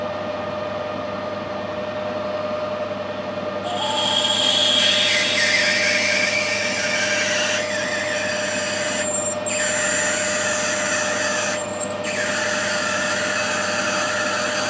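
A Dormer coated drill bores into a brass union on a machine, a steady loud whirring hum with a rising high-pitched cutting whine midway and two brief scraping bursts.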